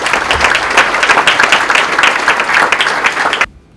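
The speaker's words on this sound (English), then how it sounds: "I appreciate the applause" Audience applause at a Colonial League academic breakfast, dense loud clapping from a seated crowd that cuts off abruptly near the end.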